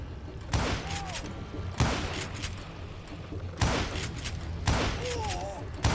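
Gunfire in the Western shooter game Call of Juarez: Gunslinger, with a few loud, sharp shots spaced a second or two apart over an ongoing bed of action noise and brief whizzing effects.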